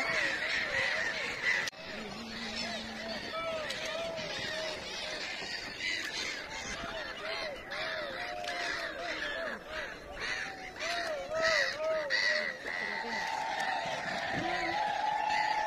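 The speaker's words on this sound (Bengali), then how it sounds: "সাইবেরিয়ান পাখি ঘুরছে" Siberian migratory birds circle over the river at Triveni Sangam, their honking and cawing calls repeating near and far above a steady background murmur of voices from the crowd and boats.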